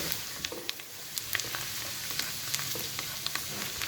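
Onions sizzling as they fry in a pot, a steady crackle broken by sharp little pops and spatters, fairly close and with no talking.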